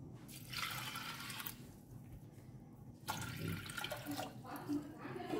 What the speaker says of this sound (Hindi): मीठ घालता आनी उदक न्ही हांव 2 कप घालता.